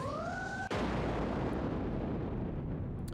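A loud bomb explosion from an N64 video game bursts suddenly after a brief tonal game sound, followed by a sustained roaring rumble that slowly decays over a few seconds.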